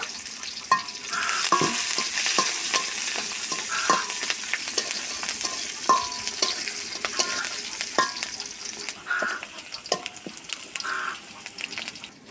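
Chili, onion, bay leaf and cinnamon fry in hot oil in a wok, sizzling steadily throughout with repeated clinks and scrapes of stirring, close and fairly loud with no talk.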